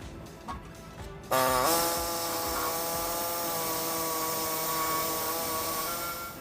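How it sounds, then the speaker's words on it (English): After a few faint knocks, an air saw starts up loudly and runs as a steady, close, high-pitched whine while it notches the frame of a 2010 Dodge Ram 1500 for a front-mount trailer hitch. "What I'll be using is a air saw to notch out the sides on the hole there"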